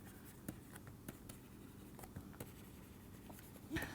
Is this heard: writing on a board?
yes